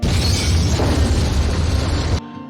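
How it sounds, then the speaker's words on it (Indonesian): A bank blows up in a film scene, a loud, dense roaring blast with rumbling debris that fills the whole clip before cutting off abruptly near the end. "lalu meledakkan bank tersebut"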